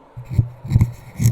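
Three bursts of a hand scratching directly against a Thronmax Fireball USB condenser microphone, close and muffled, each a brief scraping thump.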